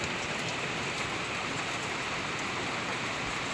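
Heavy rain falls in a constant, even roar while water leaks and drips through a roof, the steady wash continuing throughout.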